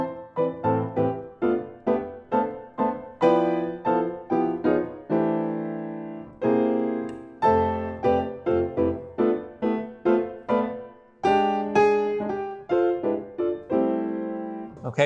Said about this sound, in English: if she played it all block chords, it would sound like this